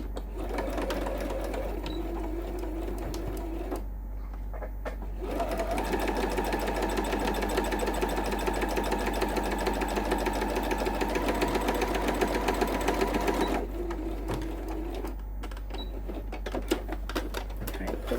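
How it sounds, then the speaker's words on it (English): A sewing machine stitches quilt binding in continuous rapid mechanical clatter, running steadily through the middle stretch, with quieter pauses and brief stops at the start and end for back stitching. "we're going to stitch on that line, and you want to do a back stitch at the beginning and at the end"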